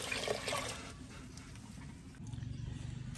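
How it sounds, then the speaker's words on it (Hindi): Water pours into a pot of soaking lentils, a mix of masoor, moong and urad dal, for a village feast, with a soft trickling splash that turns into a steadier gurgling pour near the end. "पानी डालेंगे दाल में।"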